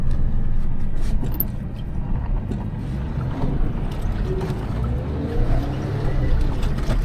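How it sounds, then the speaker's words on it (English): A Suzuki Jimny JB23W crawls through pond water on its starter motor in ultra-low gears, giving a continuous loud churning, sloshing rumble with splashing and grinding throughout, no voices. "I'm now using my ultra low gears to drive the truck with the starter."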